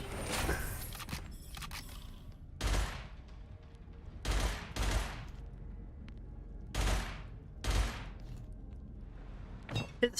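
Gunfire from a weapon in the shooter video game Gunfire Reborn, set to semi-auto so each trigger pull lets off a single burst: several sharp, loud bursts spaced a second or two apart over a low ambient game background.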